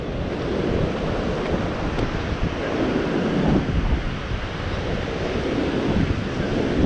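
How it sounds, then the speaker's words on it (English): Strong coastal wind gusting hard, buffeting the microphone in a continuous loud roar with surf-like rumble throughout, and no talking. "That'll give you an idea of the wind. She's puffing down here today. That's a lot of wind."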